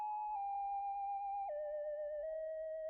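An Analog Lab synth lead preset called Alien Lip plays dry, without effects, as a sustained, smooth tone that slides down in pitch in a couple of steps, clean and alone.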